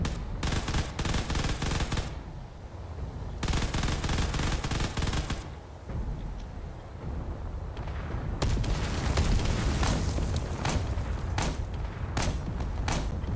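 Battle in Space Engineers with bursts of machine-gun fire and heavy artillery booms, loud and dense, coming in rapid volleys broken by short lulls, no talking.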